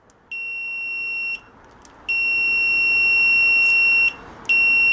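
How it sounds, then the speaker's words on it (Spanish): A Sansui TV, model TVM1315C, beeps with a steady high electronic tone each time its power button is pressed, three sustained beeps with short gaps, heard alone and close. "aquí van a escuchar un sonido cuando yo presione aquí el interruptor"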